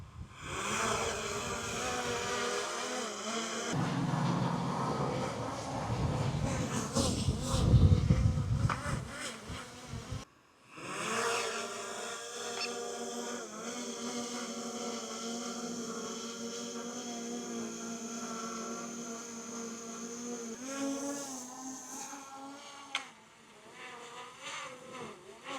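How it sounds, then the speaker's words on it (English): Loud, steady insect-like whine of a DJI Mini 4 Pro drone in flight, close at first, with a brief dropout midway before the buzzing resumes with wavering pitch, no voices. "Now we swap for the Mini 4 Pro."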